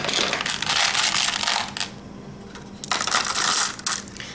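Red, white and blue M&M candies poured into a lock-and-lock jar, a loud dense rattling cascade that stops, pauses briefly, then pours again.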